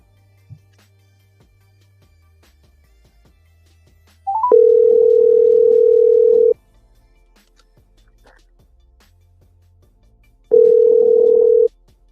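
A telephone dial tone sounds after a call is hung up, one steady two-second tone, then silence, then a second identical tone, loud and clean with a faint murmur of background noise.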